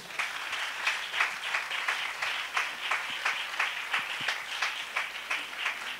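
A church congregation applauds steadily, dense continuous clapping with a rhythmic pulse throughout, fairly close and sustained without a break.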